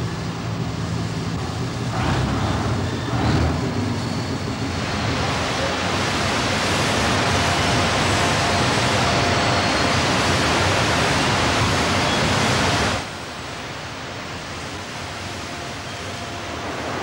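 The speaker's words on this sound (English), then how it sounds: "After the coke has been discharged, it's quenched with water" Hot coke at a coal carbonisation plant being quenched with a heavy dousing of water, a loud, steady roaring hiss like a waterfall that swells after a few seconds, holds, then cuts down sharply near the end.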